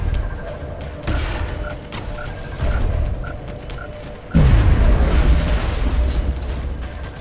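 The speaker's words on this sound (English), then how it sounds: "Grenade right here." A grenade explodes in the video game XCOM: Enemy Within. A loud, deep boom bursts out midway over steady game rumble and mechanical background noise, then trails off in a sustained roar.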